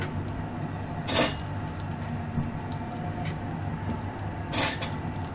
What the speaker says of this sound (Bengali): জলপাইগুলো দিয়ে নাড়তে থাকবো।